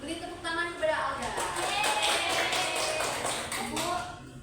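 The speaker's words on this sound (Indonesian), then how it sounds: "Beri tepuk tangan kepada Alda." A classroom breaks into applause for a student, a dense patter of many hands clapping steadily for a few seconds, mixed with voices that come in before and after.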